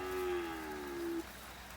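A single long, low moo from a beef cow on a small-acreage farm at calf weaning, drawn out for about a second, moderately distant, with quiet outdoor background and no talk.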